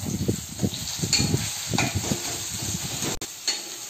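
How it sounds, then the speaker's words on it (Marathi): Sliced potatoes and onions fry in an uncovered pan for a home-style thali, a close crackling sizzle broken by scraping stirs and soft clatter of the spatula, with no talk over it. "बटाटी छान आता फ्राय झाली"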